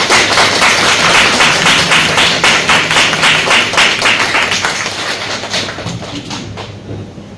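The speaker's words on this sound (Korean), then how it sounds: "우리 꽃다발 전해주실 때 뜨거운 축복의 박수를 드립니다." A church congregation claps loudly and rhythmically during a Sunday worship service as flowers are presented, the steady beat gradually fading away.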